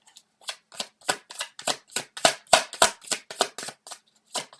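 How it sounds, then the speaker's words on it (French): Tarot cards are shuffled and drawn in a quick run of about fifteen crisp riffling slaps, close and fairly loud, with tiny pauses between bursts. "on commence à sortir les cartes"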